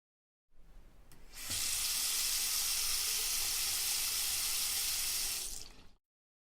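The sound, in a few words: tap water running while washing tomatoes and onion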